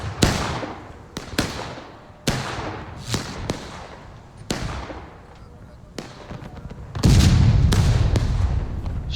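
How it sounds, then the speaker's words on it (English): Artillery shells exploding in a Civil War battle game, with a series of sharp booms rolling out at uneven intervals, some near and loud, others more distant, over a low background of battle noise. "Shell going off right there."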